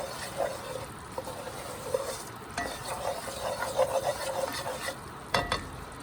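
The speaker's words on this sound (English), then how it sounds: "So this roux is going to cook like that. You're going to keep stirring it." A spoon stirs a flour and oil roux in a pot, with soft continuous scraping and a faint sizzle, plus occasional clinks of utensil on metal. No voice is heard.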